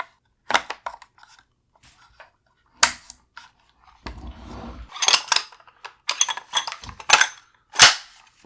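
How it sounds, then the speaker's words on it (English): A bolt carrier group is inserted into a Springfield Hellion rifle, producing sharp metallic clicks, slides and snaps, some loud and close, separated by short pauses, with one longer grinding scrape partway through. "Insert the bolt carrier group."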